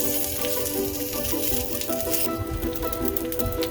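Oil in a hot pan sizzles loudly as a whole pearl spot fish (meen pollichathu) goes in, a dense, steady crackle that flares brighter midway and continues alone without talk.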